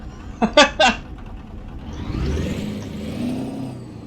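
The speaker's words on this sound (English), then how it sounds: "Now, when I start the truck, I actually have sound." In American Truck Simulator or Euro Truck Simulator 2, a few short electronic beeps, then a Caterpillar 3408 air-start diesel truck engine cranks and rumbles to life, settling into a low, steady idle.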